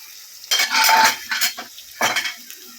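Onions sautéing toward golden brown in a pan for coconut milk rice, stirred in a few quick bursts of spoon-on-metal clatter with a light sizzle between, close and fairly loud.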